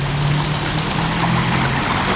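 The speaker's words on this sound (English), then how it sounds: "One man-made waterfall, which goes right here." A man-made waterfall in a park gives a steady, full rush of falling water with a low hum underneath, constant and close, with no voices.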